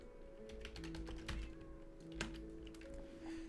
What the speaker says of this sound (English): I did not type that right.